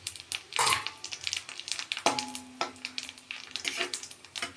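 Whole cumin seeds, two bay leaves and a dried red chili crackle and sizzle in hot oil left from frying eggs, with sharp bursts of spitting and a few clinks of a stirring utensil against the pan, close and moderately loud.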